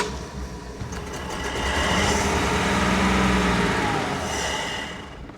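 A Mercruiser 165 hp boat engine in a 1973 Cobalt runs rough, its uneven rumble and sputter swelling then fading as it dies out, heard nearby without talk.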